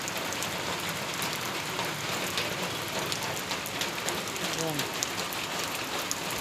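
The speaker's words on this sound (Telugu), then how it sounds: "మాకైతే వాన పడుతుంది" Rain drums steadily on a metal sheet roof, a continuous close patter with sharp drop ticks, while a voice briefly rises faintly beneath it.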